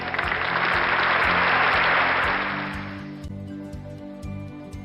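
An audience at a volunteer award event claps in a dense burst for about three seconds, then the clapping cuts off abruptly, leaving music playing underneath.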